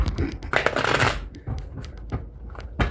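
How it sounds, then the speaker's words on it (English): Tarot cards shuffled by hand, a close burst of papery riffling and flicking, then lighter scattered card slaps and taps over about three seconds. "Needed to refresh the energy in the cards."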